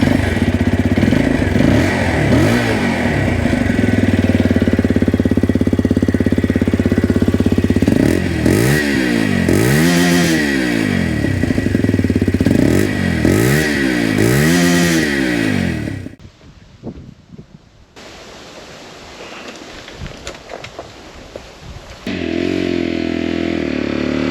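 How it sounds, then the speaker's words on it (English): A Lexmoto LXR 125 SE 125cc motorcycle rides close and loud, its engine rising and falling through repeated rev sweeps and gear changes, then dropping to a quieter rumble with wind before the engine swells again. "Let's get out on the bike and have a ride."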